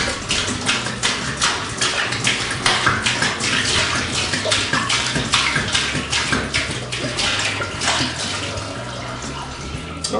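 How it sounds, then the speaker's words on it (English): Sanitizer solution poured from a winemaking carboy into a sink: a steady, fairly loud splashing gush of liquid that runs without a break for about ten seconds. "let's dump out our Sparkle Bright"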